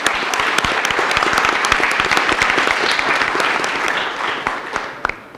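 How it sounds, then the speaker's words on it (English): An audience at a college transfer-success alumni panel breaks into a round of applause, dense overlapping claps with some sharp individual hits standing out, steady and fairly loud before tapering slightly near the end. "So a big round of applause for the people that are here today."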